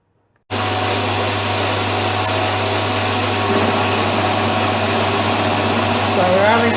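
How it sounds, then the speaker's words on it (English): A milling machine runs a fly cutter over a BSA Bantam motorcycle cylinder head, taking a one-millimetre cut. A loud, steady motor hum with a constant high whine starts abruptly and holds unbroken. "That angle's been set, and we're going to be running a fly cutter over the top."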